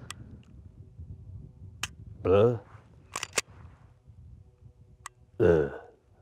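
A Sig M18 pistol gives several sharp, faint clicks as its trigger resets, heard close amid quiet room tone, with two short bursts of speech between them.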